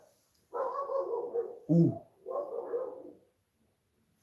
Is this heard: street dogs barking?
yes